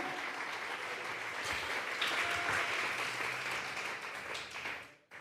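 A church congregation applauds together in a sustained, dense wash of clapping that holds steady, swells slightly mid-way, then fades and cuts off near the end; no speech over it.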